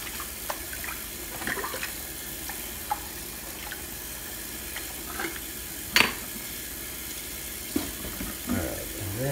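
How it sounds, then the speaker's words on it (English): A dish being rinsed under a running kitchen tap while hand-washing dishes, a steady wash of water with scattered clinks and splashes, one sharper knock near the middle, no talking. "Now I'm gonna finish rinsing this one off."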